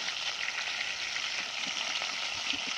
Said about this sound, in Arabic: هنا الفراخ بتطرطش الزيت وبتبهدل الدنيا